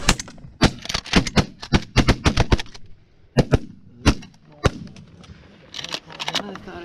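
Shotgun blasts at flying geese during an early-season hunt from layout blinds, a rapid volley of sharp overlapping shots followed by a few scattered later reports, with hunters' voices mixed in.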